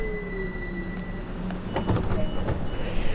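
Train doors in Train Sim World 2 opening with a few soft clunks and a sliding whir over a steady cab hum with faint tonal beeps, fairly close and no talking.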